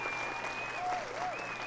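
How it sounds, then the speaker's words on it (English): Brief applause from a small group, steady and fairly faint, with sustained tonal whistles running over the clapping. "Round of applause"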